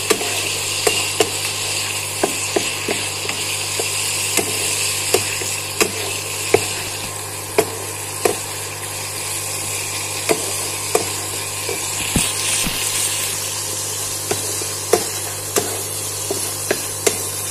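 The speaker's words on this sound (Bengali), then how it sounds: "এবার এটাকে আমি পেস্টে আবার ভালো করে কষিয়ে নেব।" A spice paste with ginger, tomato and butter fries in a pan for paneer butter masala, giving a steady close sizzle under a low hum, punctuated by regular sharp taps and scrapes of a stirring spoon.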